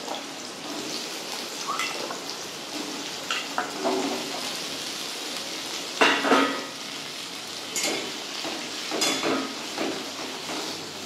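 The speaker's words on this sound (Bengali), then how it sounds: "এবার এই তেলে আমি প্রথমে আলুগুলোকে লাল করে ভেজে নেব।" Potatoes fry in hot oil in a wok, a steady close sizzle with occasional louder crackling bursts and stirring clinks, no talking.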